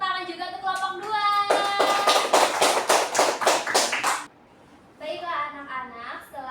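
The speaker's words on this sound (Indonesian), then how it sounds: "anak-anak berikan tepuk tangan juga untuk kelompok 2" Students in a Grade 7 Indonesian-language class clap together in a quick rhythmic burst of about a dozen sharp claps, with a teacher's voice speaking before and after.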